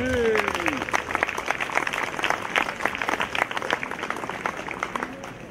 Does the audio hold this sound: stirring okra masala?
no